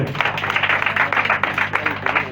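An audience applauds a municipal councillor at an official handover ceremony for a new three-classroom school building; steady, dense clapping fills the room for a couple of seconds over a low electrical hum.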